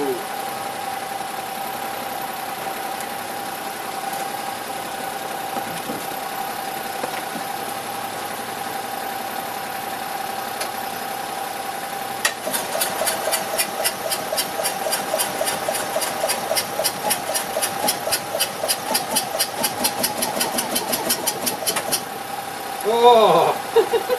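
An old Invacar left abandoned in a field for 14 years is cranked over: a steady hum comes first, then a long run of rapid, even starter chugs that stop short of firing, with people talking nearby.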